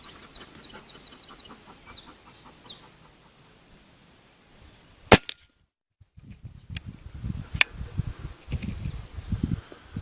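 An air rifle fires at a target outdoors, with one sharp loud crack midway and a couple of fainter pops after it, while birds call in the background.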